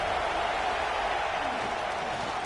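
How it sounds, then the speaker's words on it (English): A stadium crowd roars in College Football 26 as the defense faces a red zone stop, a loud continuous wash of cheering noise with no break. "This crowd is trying to inspire this defense to make a big red zone stop."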